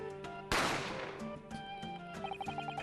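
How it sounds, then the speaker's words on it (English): A single sharp gunshot effect from the video game The Great Ace Attorney Chronicles, a loud sudden crack with a ringing tail, heard over soft game music that carries on beneath it. "A gunshot rang out,"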